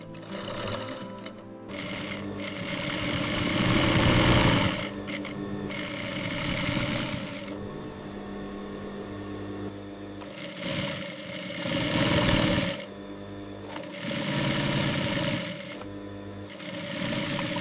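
A sewing machine runs in bursts, stitching pockets with reinforced seams onto bamboo-fabric garments such as T-shirts and hoodies; the motor whirs loudly in long runs with short pauses between, no voices.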